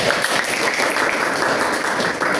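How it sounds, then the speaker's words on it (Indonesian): A classroom full of students applauding a group after a poetry lesson, a brief, thick wash of clapping that stays even and close throughout. "tepuk tangan kepada kelompok ketiga"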